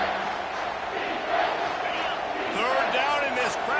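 A loud, sustained roar from a packed stadium crowd at a Tulane versus Alabama college football game on third down, with shouts and cheers swelling throughout and a commentator's voice over the din.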